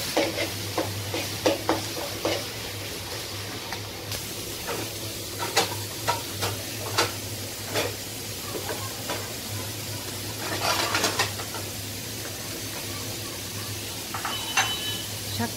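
Leafy greens (shak) fry in a pan with a soft sizzle while a spatula stirs and scrapes, giving repeated sharp clacks at an uneven rhythm over a low steady hum.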